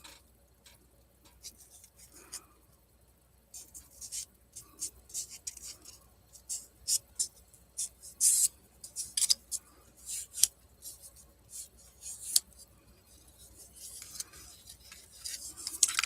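Scrap paper being folded in half by hand gives irregular crisp rustles and creases that build in loudness, with sharp crackling bursts in the middle and near the end and no talk.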